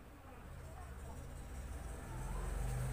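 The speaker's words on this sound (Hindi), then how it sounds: "अभी एक गाड़ी आ गई है जिससे आवाज थोड़ा डिस्टर्ब होगा" A road vehicle passes outside, its low engine and tyre rumble swelling steadily louder over a few seconds beneath a faint voice.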